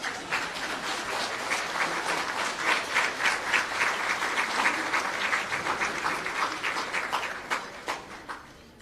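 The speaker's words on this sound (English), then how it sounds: "May I invite you another round of applause?" Audience applause at a national science and innovation medal ceremony in Jamaica, sustained even clapping from a large seated crowd with a slight pulsing rhythm, fading toward the end.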